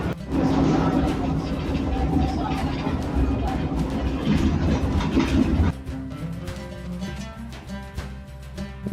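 Modern tram riding through Istanbul, a steady loud rumble of rolling wheels and car noise for most of the ride, easing to a quieter hum with faint rhythmic clicks near the end; people talk faintly in the background.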